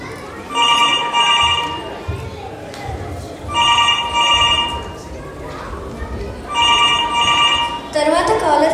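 Telephone ringing in a live cultural stage show as a caller comes through, a repeating electronic ring in three bursts over steady background crowd noise and chatter.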